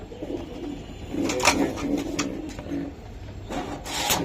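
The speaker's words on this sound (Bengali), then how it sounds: "এদিকে কিছু কবুতর আছে" Pakistani high-flying pigeons, including Teddy Golden Kamagar birds, coo in low, repeated murmurs close by, with scraping and rubbing sounds from the loft mixed in.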